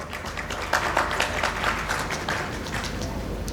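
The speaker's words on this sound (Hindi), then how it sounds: "तालियां।" Studio audience applause in a Ramadan sehri quiz show, a steady, dense burst of clapping that carries on without a break.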